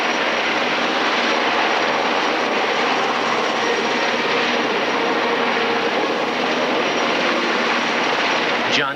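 A rescue helicopter at a dam rescue in Punta Gorda, Florida, roars loud and steady overhead with a dense, continuous rotor and engine wash, no voices audible.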